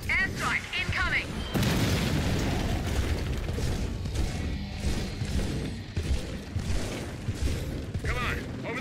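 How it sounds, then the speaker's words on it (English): Airstrike explosions in the video game Gears of War 4 arrive as heavy booming blasts and rumbling bursts through a dense, loud battle mix. Chirping creature cries and a voice can be heard underneath. "I'm requesting an airstrike. Airstrike incoming."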